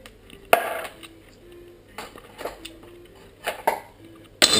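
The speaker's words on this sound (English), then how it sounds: "you can try and scoop out the additional contents of that if you want, but you're really just scratching" Scraping and scooping a utensil against a container while making a baked cheesecake, a few sharp clinks and scrapes with quiet pauses between, close and clear with no talk.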